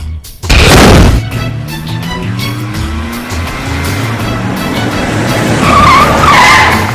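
A car skids to a stop with a loud, sustained tire squeal over engine roar, beginning with a heavy thump and smearing on for several seconds close by, with no talking.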